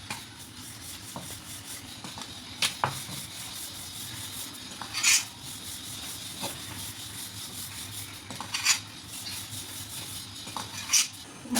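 An aloo paratha roasts on a hot pan with soft, continuous rubbing and scraping, plus occasional short crisp rasps and clinks as it is pressed and turned; the sound is close and quiet.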